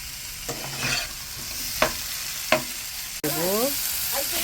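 Chopped tomato and ginger fry with salt in a pan, a close steady sizzle cut by several sharp spatula scrapes and clacks, with no voices.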